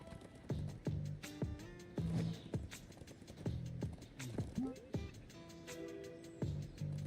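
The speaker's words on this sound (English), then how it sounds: "This is the horse you've been waiting for." Horse hooves clip-clop in the video game Nobody Saves the World, a steady series of sharp, close knocks with short musical tones and faint game sounds between them.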